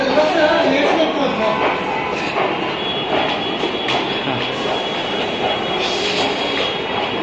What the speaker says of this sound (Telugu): తిరిగి ఢిల్లీ మెట్రో ఎక్కుదామని అండర్ గ్రౌండ్ మెట్రోకి వెళ్తున్నాం.